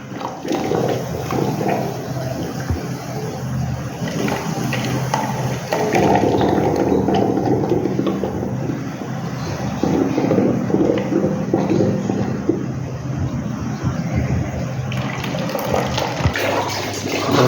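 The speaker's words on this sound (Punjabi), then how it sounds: "ਗੰਦਾ ਪਾਣੀ ਆ ਰਿਹਾ" Dirty water gushes steadily from an old GI pipe just freed of a blockage, a loud continuous rushing flow with slight surges in strength, close by and without voices.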